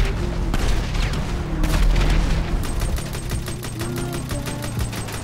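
GTA 5 Vehicle Vendetta match with heavy booms and rapid gunfire over loud game audio, the explosions dense and up close throughout, with no talking.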